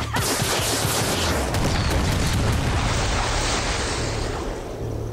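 Fireworks burst in the video game Far Cry 6, a dense, continuous barrage of booms and crackles with a steady roar and no speech.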